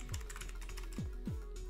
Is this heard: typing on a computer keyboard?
yes